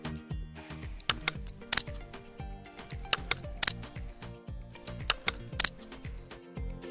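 A refrigerator makes sharp clicking and snapping noises, like something striking a solid object. The crisp clicks come in small clusters every second or two over a soft, steady tonal background.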